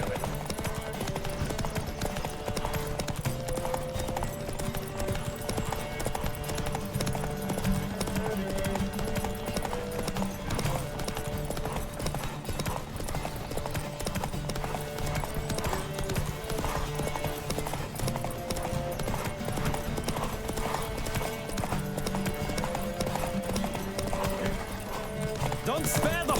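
Hooves clip-clop in a fast, steady gallop during a horse race in The Witcher 3, with a continuous rhythmic pounding and an occasional whinny, set under game music and speech.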